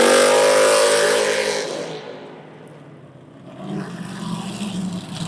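A loud Jeep CJ2 race car with a Dynomax exhaust roars close by at high revs, fades as it pulls away, then its engine note swells back in a steady drone.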